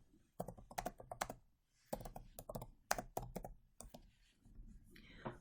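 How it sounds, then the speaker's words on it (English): Rapid clicking of computer keyboard keys in uneven bursts, close and fairly quiet, with brief pauses between runs of typing into a Google Drawings text box. "I can then start typing"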